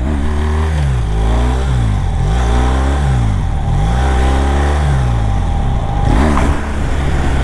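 BMW 1200 motorcycle engine revving hard during wheelie attempts, loud and close, with repeated rising and falling throttle sweeps and a steady mechanical roar throughout.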